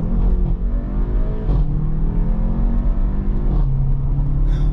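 Skoda Octavia vRS accelerating hard, engine rumble climbing steadily in pitch through the gears with brief dips at each shift, loud and close from inside the car.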